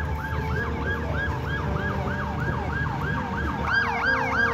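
A military police car siren wails in a repeating up-and-down cycle at a Kenyan general's funeral convoy, loud and near over road traffic noise, with a second siren joining toward the end.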